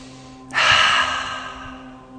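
A single deep inhale-exhale during a guided breathing exercise, a close, airy breath that swells quickly and then fades slowly over about a second and a half, alone over a faint steady hum.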